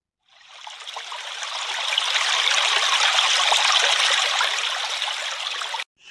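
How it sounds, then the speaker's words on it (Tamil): Water gushes steadily from a tap into a container, loud and close, the rushing building slightly then cutting off abruptly. "ஒரு அக்கா தண்ணி பிடிச்சிட்டு இருக்காங்க பாருங்க"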